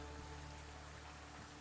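Rain pours steadily in the Foundation medieval city builder game, a soft even hiss that goes on throughout the clip, with faint low tones underneath and no voices.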